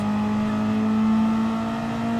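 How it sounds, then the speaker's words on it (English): Sustained engine drone from a 600cc motorcycle in a racing video game, a steady loud tone with strong harmonics that holds without a break, no talk over it. "Listen to that. Basically, motorcycle engine roar."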